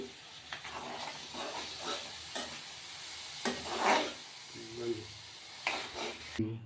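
Oil and onion stirred in a frying pan, giving a soft steady sizzle with scraping stirs, close up and fairly quiet, while voices talk over it.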